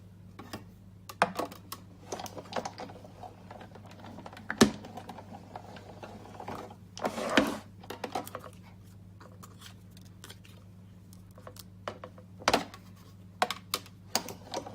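A die-cutting machine presses Takeout Treats framelits through buffalo check patterned paper, heard as quiet scattered clicks and crunches with a louder grinding pass midway, over a low steady hum.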